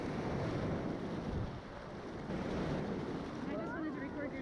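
Ocean surf washes steadily onto a beach during a family trip, a continuous roar of breaking waves mixed with wind buffeting the microphone throughout.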